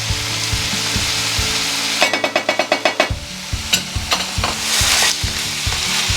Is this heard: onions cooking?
yes